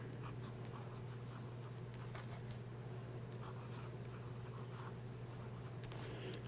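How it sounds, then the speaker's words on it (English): A fountain pen with a 1.5 stub nib writing on paper with Pilot Konpeki ink, faint scratchy strokes over a quiet low hum, close and soft, with no talking. "Now we'll do some writing."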